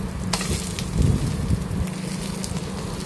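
An omelette fries in a pan on its second side, giving a steady soft sizzle and crackle close by, with a few louder spits and no voices.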